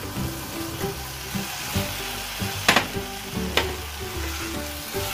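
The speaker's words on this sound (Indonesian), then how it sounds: "Kita aduk rata sebentar." Chunks of tuna (tongkol) are stirred into sizzling balado sauce in an electric pot, with constant frying crackle under repeated spatula scrapes and a couple of sharper clacks. The sound is close and steady, with no speech.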